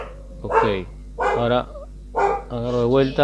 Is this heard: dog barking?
yes